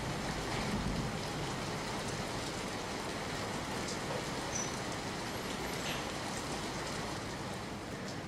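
Heavy monsoon rain pours steadily in Banaskantha, Gujarat, a dense, even hiss of drops striking the ground and surfaces that holds at a constant level throughout with no voices.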